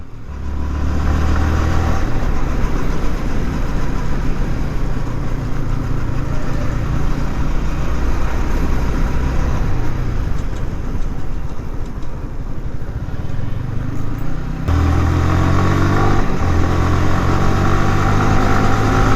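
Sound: Yamaha R15 v3 motorcycle engine sound

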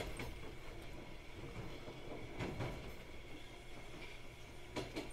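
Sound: train running on rails, from a video game

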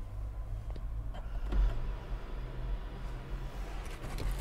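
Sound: Hyundai Verna SX 2023 electric sunroof opening

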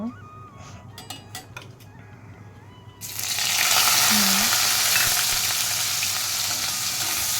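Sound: okra (bhindi) frying in a pan while being stirred

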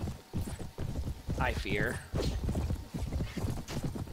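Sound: horse hooves in the video game Mount & Blade: Warband

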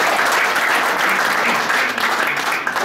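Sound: audience applauding the fifth- and sixth-placed teams

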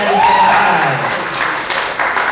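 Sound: congregation applause in church

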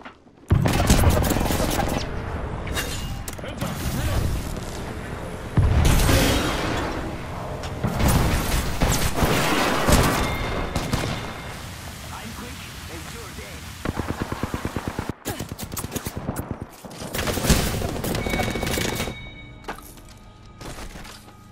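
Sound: gunfire in a video game firefight

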